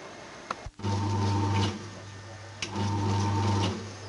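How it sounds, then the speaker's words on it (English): A bread maker on its cake setting running and mixing batter, giving a steady motor hum that stops briefly, then starts again, after a click and short clatter at the start. "I'll put it into my bread maker, turn it on, and there should be a cake setting"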